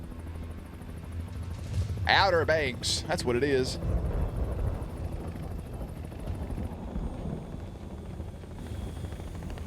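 A helicopter's steady low rotor drone rumbles throughout, while someone talks briefly over it.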